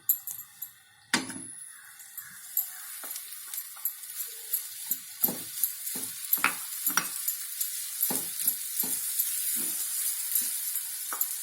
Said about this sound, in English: take some gingery oil in a pan and fry this grated mango